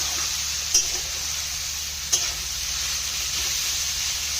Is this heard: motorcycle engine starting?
no